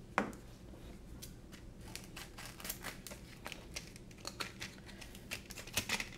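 Scissors snip repeatedly through plastic packaging, crisp close cutting sounds with some crinkling, irregular rhythm, fairly quiet.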